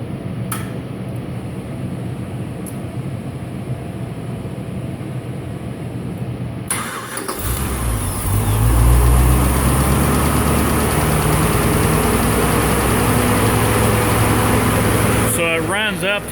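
A truck engine fitted with FiTech fuel injection cranks and catches partway through, then settles into a steady, loud, low rumbling idle that continues to the end.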